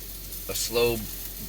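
Eggs frying in butter in a hot pan give a soft, close sizzle with a short swell of crackling in the middle.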